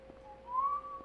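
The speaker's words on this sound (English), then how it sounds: "I whistled that really badly" A man whistles a short, wavering phrase of a pop tune, thin and fairly quiet, alone without talking.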